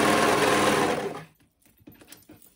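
A sewing machine stitching a princess-style dress with tulle layers whirs steadily and loudly for just over a second, then stops, leaving faint handling clicks.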